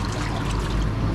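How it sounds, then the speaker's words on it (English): Steady splashing, trickling water from a water mill turning beside a village restaurant, the mill also driving a meat-turning barbecue spit; continuous and close, with no voices. "And there's the water mill."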